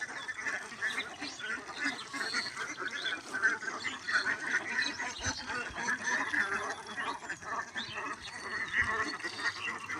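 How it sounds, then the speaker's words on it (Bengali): A flock of farm ducks in a flooded paddy field quacking in a dense, continuous chorus, many overlapping calls near and far with no pause. "কিছু কিছু হাঁস আর এই পানিতে খেতে ভালো লাগছে না"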